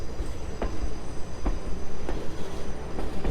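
A passenger train rolling along rails near the Grand Canyon, heard from inside a car as a steady low rumble with faint periodic clicks of wheels over rail joints, continuous and fairly close.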